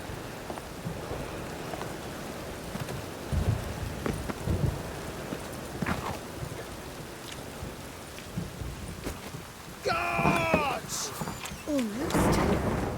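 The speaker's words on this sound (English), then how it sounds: "A storm, damn it." Stormy weather in The Witcher 3: Wild Hunt, a steady wash of rain with low rumbles of thunder rolling underneath. Voices and other game sounds come in toward the end.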